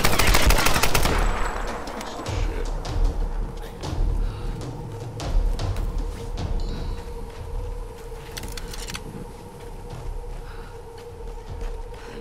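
Gunfire in Tomb Raider: a loud burst of rapid shots at the start gives way to scattered, duller bangs and impacts over a constant game background hum.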